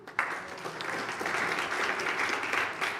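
Audience applause fills a residents association all-candidates meeting for a federal election, a steady broadband clatter of many hands starting abruptly and holding for about three seconds at moderate loudness, no voices standing out.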